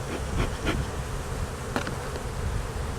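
Honeybees from a small hive being relocated buzz steadily around the microphone, a dense close drone with a few individual bees passing loudly near.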